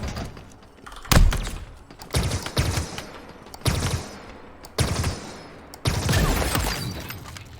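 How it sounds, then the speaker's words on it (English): Needler fire in Halo Infinite comes in five distinct clusters of crackling, sharp impacts, each burst a dense volley of rapid hits followed by a short quieter gap. "Let's see how many shots with the Needler it would take after they're meleeed."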